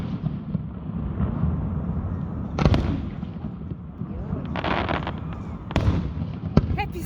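A McCormick fireworks display booms at a distance through a steady low rumble, with several sharper bursts cracking out, while nearby spectators murmur underneath.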